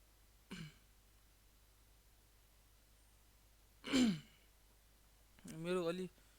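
A person clears their throat and coughs in three short, separate bursts, the last one longer and voiced, with near silence between them in a quiet room.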